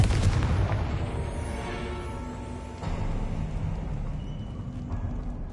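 A Confringo fire spell blasts in Hogwarts Legacy, opening with a heavy booming burst that rolls into a sustained, rumbling roar of flames and crackle, loud and close, with no talking over it.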